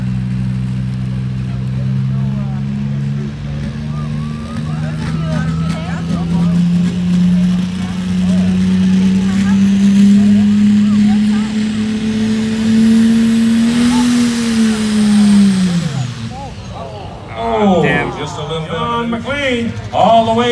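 A pulling tractor, an ACD21, roars at full power down the track at a 2022 tractor pull in Embro, Ontario, its loud sustained engine note climbing, then cutting off near the end as crowd noise and an announcer's voice come through.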